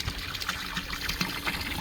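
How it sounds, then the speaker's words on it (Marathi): A motor pump sends cold water gushing into a tub at an old village house in the sun, a steady splashing, filling rush that is fairly close and continuous, with no voices. "तर त्यांनी मोटर चालू केली"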